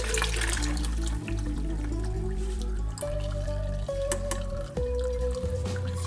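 Sweet tea poured through a fine mesh strainer, liquid running and dripping continuously with small splashes and shifting tones as the level rises, close and fairly loud with no talk.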